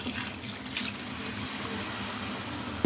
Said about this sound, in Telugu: ఇందాక మసాలా కలిపిన వాటర్ ఉన్నది కదా, ఇది మనం పోసేసుకుందాం